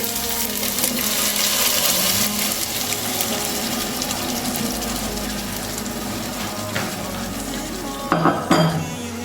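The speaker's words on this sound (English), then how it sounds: "Our onions are now well cooked, so I will go in now with our tomato puree." Tomato puree hits well-cooked onions in a hot pan and sizzles steadily up close, with a soft hiss throughout and a few clinks of a utensil against the pan near the end.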